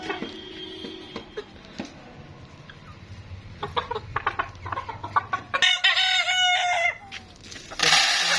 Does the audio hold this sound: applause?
no